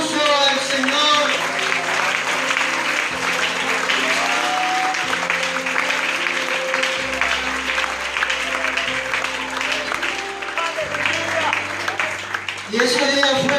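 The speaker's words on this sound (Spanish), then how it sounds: "Es un aplauso al Señor." Congregation applauding during a Spanish-language church service, a sustained burst of clapping with music and voices underneath that fades out near the end.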